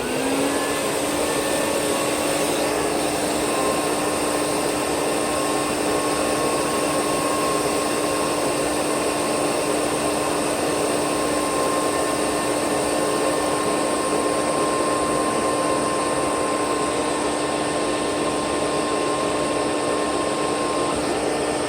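A Rainbow E2 Platinum vacuum cleaner runs at the end of its hose, making a loud, steady, unbroken roar with a high whine that continues alone for the whole stretch.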